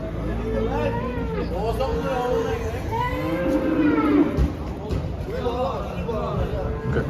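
Cattle and calves low amid the busy Bergama livestock market in Turkey, several overlapping moos rising over a constant crowd murmur, with someone talking nearby throughout.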